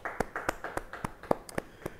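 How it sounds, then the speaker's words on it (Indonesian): Sparse, quiet applause from a church congregation during a Bible study service, a handful of slow, separate claps ringing out at an even pace for a couple of seconds. "Beri tepuk tangan bagi dia."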